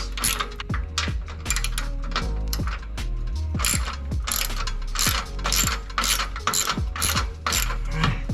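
A socket ratchet loosens the bolts on a full exhaust being fitted to a Harley-Davidson Low Rider ST motorcycle, giving rapid, close metallic clicking in uneven bursts with no talk.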